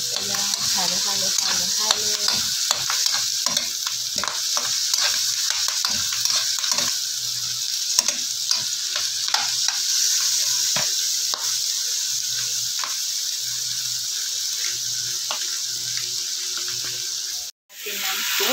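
Igado cooking in a pan is stirred after pepper and bay leaf go in, a long run of soft scraping and clattering strokes over a bright steady sizzle, with a brief dropout near the end.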